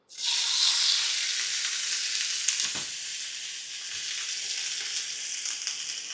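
British Wagyu steak hits a smoking hot pan with butter, letting out a loud, sudden sizzle that holds as a steady, bright hiss with a few small crackles.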